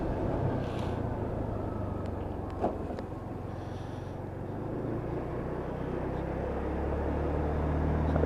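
A Lexmoto Titan motorcycle riding along a road, heard as a steady low engine drone and road rumble with a constant rushing wash of wind, held at an even level throughout without talk.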